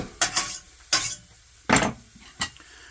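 A utensil stirring garlic sautéing in a pan: four separate scraping strokes against the pan, each short and distinct, over a faint sizzle.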